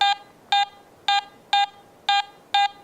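Garrett AT Gold metal detector sweeping over a silver coin, sounding six regular, strong medium-pitched beeps in a steady rhythm, crisp and close with no talk.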